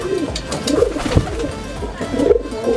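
Several pigeons coo in soft, repeated throaty rolls close by, overlapping one another with some light shuffling and rustling in between.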